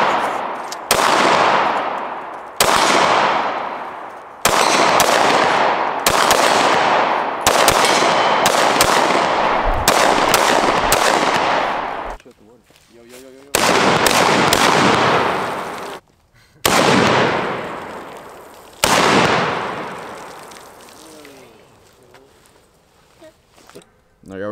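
Gunfire from Glock, PSA and Sig Sauer firearms at an outdoor gun range: loud, sharp shots in rapid strings and bursts with short pauses between volleys, close to the listener.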